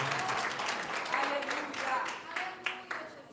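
A church congregation applauds in a steady wash of clapping with a few louder bursts near the end, mixed with faint voices.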